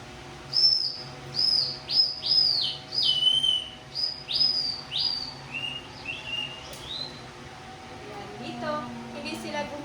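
A hand-held device mimics a bird call to lure game birds, producing a run of about nine or ten sharp rising whistled chirps in a steady rhythm, close and clear, fading out as a voice starts speaking at the end.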